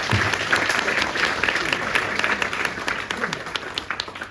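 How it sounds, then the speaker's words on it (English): A conference audience on stage at the No Money Down Summit gives a sustained round of applause, a dense, steady wash of many hands clapping that fades slightly toward the end. "We give these guys a round of applause."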